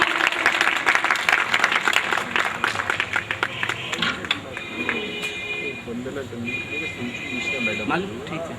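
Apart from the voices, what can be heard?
audience applause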